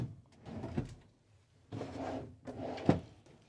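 Wooden drawers in a 2023 Newmar Super Star 4059 motorhome slide open and shut a few times with soft scraping rumbles, ending in a sharp knock, close and fairly quiet.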